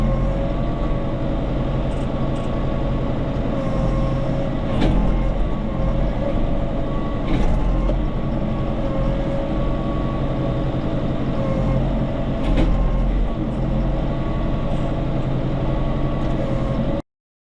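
A tractor engine runs steadily on a farm with goats and calves nearby, giving a loud continuous mechanical drone with a few brief louder bursts and no talking.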